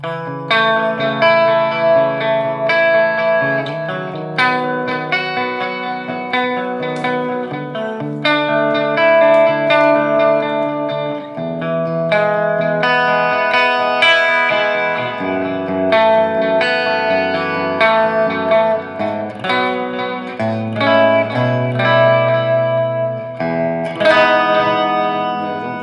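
Clean electric guitar notes and chords on the bridge pickup of an Ibanez FRM250MF Paul Gilbert Limited Signature, played with a bright, twangy bite, layered with chorus-like shimmer and a touch of reverb, continuous and fairly loud.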